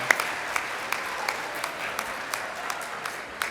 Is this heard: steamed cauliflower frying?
no